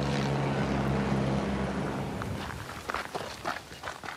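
Helicopters resupplying Mafat give a steady, droning rotor hum for the first couple of seconds. The hum then fades as crunchy footsteps on rough ground take over.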